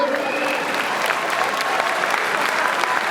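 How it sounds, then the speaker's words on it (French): A large audience breaks into sustained, dense applause, loud and close, with many hands clapping steadily and a faint murmur of the crowd beneath. "Applaudissements, mesdames et messieurs."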